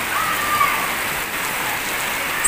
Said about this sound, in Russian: Вы видите, какой дождь?